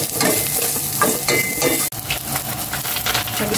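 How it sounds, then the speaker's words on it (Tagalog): Garlic and onion sauté in a hot pan with a loud, continuous sizzle, broken by the scrape and clatter of stirring, and one short pause partway through. "Nagisa na yung mga bawang, sibuyas,"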